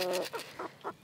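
Chickens in a garden in April give a quick run of close clucks and short squawks, four or five calls in about a second.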